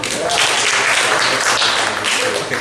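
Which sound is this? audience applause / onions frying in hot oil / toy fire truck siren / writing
audience applause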